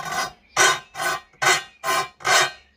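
A metal file rasps against a tool edge while work is done on a D40 Navara fitted with a V8 engine, six steady rhythmic strokes close up with no talking.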